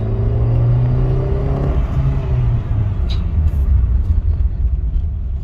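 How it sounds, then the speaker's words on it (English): A 2009 Honda City's naturally aspirated VTEC engine revs hard under full throttle, a loud close droning rumble that climbs in pitch and then holds steady, with no talk over it. "So any gear you can just floor it and it will rev it up"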